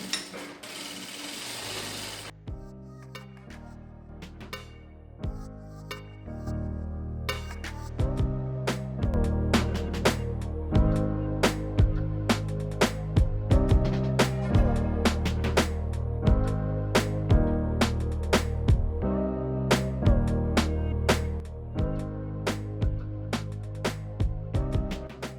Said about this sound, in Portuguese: agora eu só vou virar os 3 centímetros que eu deixei para a margem de costura e pespontar uma costura